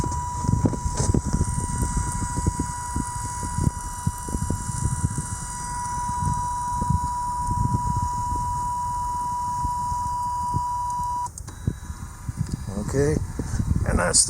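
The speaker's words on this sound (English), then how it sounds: "that's the sound of the elevation adjusting" A small motor on a DIY solar tracker drives the elevation adjustment, a thin steady whine running beneath outdoor wind rumble and a brief spoken word, stopping abruptly near the end.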